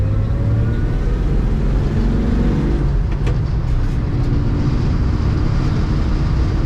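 A 1961 Chevrolet Apache 10 stepside shortbox pickup drives and accelerates, its engine a loud steady low rumble heard from inside the cab, with no talk.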